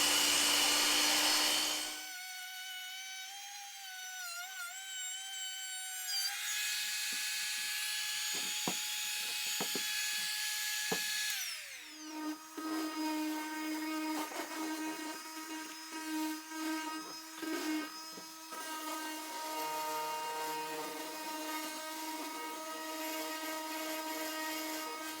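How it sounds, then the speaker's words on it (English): A bench saw cuts through wood at a 5-degree tilted angle for a homemade phone speaker stand, the motor spinning up loudly, then a steady whining cut that holds for several seconds before winding down, heard alone without talk. "So we're going to cut this on the bottom, and we're just going to cut, like I said, a 5 degrees,"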